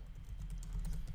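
Soft, rapid tapping on a computer keyboard, a near, quiet run of irregular keystrokes over a low background hum.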